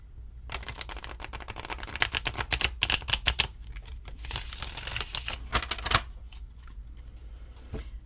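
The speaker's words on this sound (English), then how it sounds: "just by riffle shuffling, you can get a very good mix" Tarot cards riffle shuffled by hand, fast rattling bursts of flicking cards with short pauses between riffles, close and crisp, a couple of softer taps near the end, no talking.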